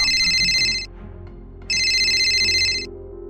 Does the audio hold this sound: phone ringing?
yes